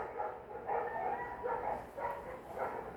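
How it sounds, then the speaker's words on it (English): Dogs bark in short repeated bursts, roughly five in three seconds, somewhat distant and fairly faint, with a back-and-forth rhythm suggesting two animals answering each other. "I guarantee you, it's two bitches barking."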